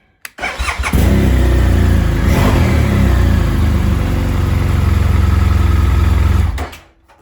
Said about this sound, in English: I fire up the bike, comes right to life